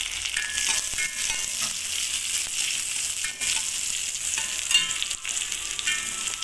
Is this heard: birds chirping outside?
no